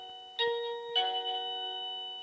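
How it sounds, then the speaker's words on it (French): A shop-bought electric doorbell wired to a marble pull-cord bell: two clear chime strikes about half a second apart, each ringing out with a long sustained tone that fades slowly, alone and close. "Donc vous achetez une sonnette dans le commerce comme celle-ci."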